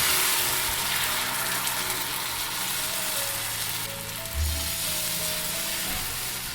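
Wheat flour uttapam batter sizzling in an oiled pan over medium flame: a continuous close hiss and crackle of frying with faint stirring and scraping sounds, no voices.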